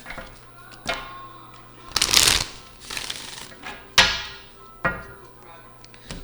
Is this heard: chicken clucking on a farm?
no